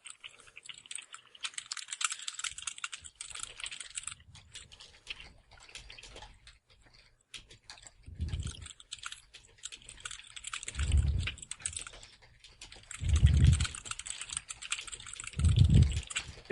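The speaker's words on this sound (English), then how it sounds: "Furious sound of typing." Fast, furious typing on a computer keyboard during a Paranoia tabletop role-playing session: a dense, steady clatter of keys throughout, with a few heavier thumps toward the end and no voices.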